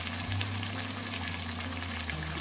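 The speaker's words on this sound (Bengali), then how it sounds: "দেখুন সবগুলি কলিজা মশলার সাথে আমি ভালো করে মিশিয়ে নিচ্ছি।" Chicken liver sizzling in a pan as it is stirred together with spices for a Bangladeshi liver bhuna, a steady, dense frying hiss with a low continuous hum beneath, close and unbroken, no talking.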